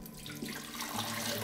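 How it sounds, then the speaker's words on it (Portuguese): Water pours steadily into a blender jar while making a salad dressing with lemon and garlic, giving a continuous close splashing rush that builds slightly and runs without pause. "Vamos colocar água."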